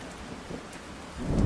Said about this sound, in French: Parfois, on pouvait entendre l'orage